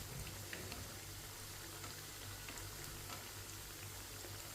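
Chicken patties fry in oil over medium heat, a dense, steady sizzle that holds even and unbroken throughout without voices.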